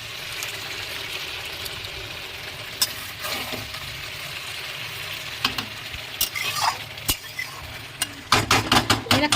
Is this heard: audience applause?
no